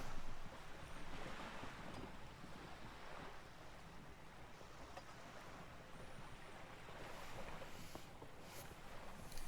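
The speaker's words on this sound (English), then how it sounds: "The wind flaps the sail above her" Wind in the Disco Elysium video game, a steady airy rush with waves washing against a boat and a canvas sail fluttering overhead, continuous and moderately loud throughout, with no voices.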